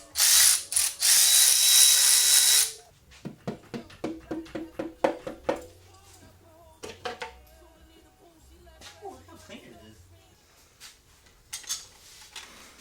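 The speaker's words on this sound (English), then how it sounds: "This is Raymond's first time using power tools." A short loud burst of power tool whirring loosening bolts on a Honda EF Civic wagon, then a series of sharp ratcheting clicks and metallic clinks, fading to quieter scattered rattles.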